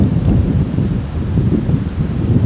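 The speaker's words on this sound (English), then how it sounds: "Super windy today." Strong gusty wind outdoors on public land in Iowa, a continuous low rumbling roar that stays loud and close to the microphone for the whole stretch, with no talking.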